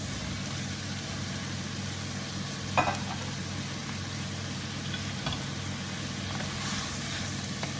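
Potatoes added to a pan with curry leaves sizzle in oil, a steady close hiss of frying with a few sharp clinks and scrapes of stirring, and no talk.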